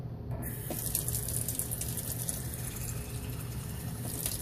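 Tap water runs steadily into a reborn baby bottle, a continuous close splashing rush that starts abruptly and holds at even loudness.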